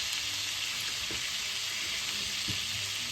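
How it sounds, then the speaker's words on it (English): Thick-cut hickory smoked bacon, about 8 ounces, frying steadily in a stew pot with a constant close sizzle, broken by a couple of soft scrapes as the strips are pushed around. "I'm going to cook this bacon to a point where it starts getting nice and crispy"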